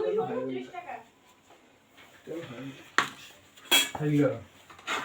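Pieces of roast go into a cooking pot with clanking metal and spoon clatter, bursts that come between stretches of talk.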